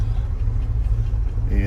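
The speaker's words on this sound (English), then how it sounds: "This thing's idling about between 550 and 6, idling smooth." Idle of a K10 truck engine running smooth and steady at roughly 550–600 rpm, a low continuous rumble heard up close with a faint tonal hum joining near the end.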